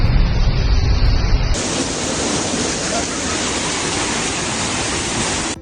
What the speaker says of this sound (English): Images and videos shared by residents show avenues turned into veritable rivers, with water reaching doors and windows of single-story homes.